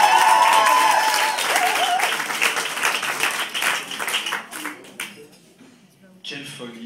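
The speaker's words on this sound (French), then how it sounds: "Applaudissez-le." An audience applauds at a live performance event, steady close crowd clapping that gradually tapers into scattered claps, with a voice speaking over it near the end.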